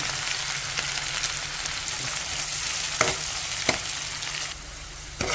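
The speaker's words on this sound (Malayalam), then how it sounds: "ഇതേ എണ്ണയിലോട്ട് ആവശ്യത്തിനുള്ള സവാള നമുക്ക് വറുത്തെടുക്കാൻ വേണ്ടിയിട്ടാണ്" Onions fry in hot oil for chicken biryani, giving a steady, dense sizzle with a few sharp pops and crackles. It sounds close, with no talking.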